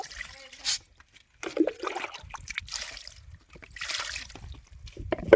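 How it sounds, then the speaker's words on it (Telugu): Water poured over fish to clean it, coming in short irregular splashes and trickles with quiet gaps between them, close and fairly soft. "ఇది వాటర్ పోసి నీటి క్లీన్ చేస్తానా"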